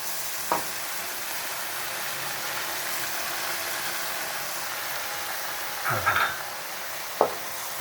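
Water spinach is stir-fried in a pan over a low flame, with a soft continuous sizzle and a few isolated clanks of the spatula against the pan.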